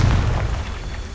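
Confringo and Bombarda blast spells from the Hogwarts Legacy video game, a loud, deep booming explosion that rumbles and slowly fades over about a second, with no talking.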